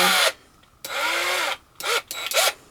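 A power drill spinning in short bursts while a blending hackle for fiber is being made, whirring loudly for about half a second to a second at a time, with brief pauses and a quick stop-start toward the end.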